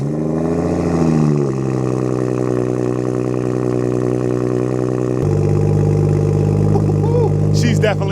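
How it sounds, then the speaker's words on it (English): A BMW cold-starting: a starter crank, then the engine catches and flares loud before settling into a high, steady cold idle that drops lower partway through, heard up close. "Let's get a cold start on the BMW."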